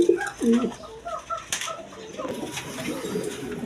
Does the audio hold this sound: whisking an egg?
no